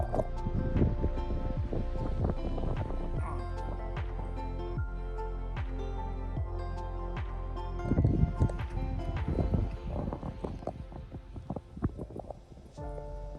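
Strong gusty wind buffeting outdoors in the hills at Grwyne Fawr, Wales, with low rumbling and irregular thumps and rustles that swell louder around the middle and stay steady throughout.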